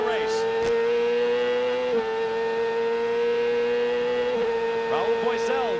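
An Indycar race car engine holds a loud, steady high-pitched whine on track, dipping as the driver eases the throttle and downshifts to third, with faint tire and crowd noise around it.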